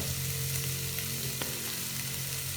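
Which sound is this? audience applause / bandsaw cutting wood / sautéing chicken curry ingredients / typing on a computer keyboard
sautéing chicken curry ingredients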